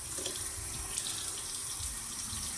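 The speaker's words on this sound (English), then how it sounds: "Now I'm just gonna put a little water in my hand and then soak it like that for a few seconds" Steady, soft stream of tap water running in a bathroom sink and splashing into a cupped hand, constant and unbroken, with no voices.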